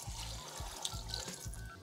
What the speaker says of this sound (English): So I add in 2 more cups of water here.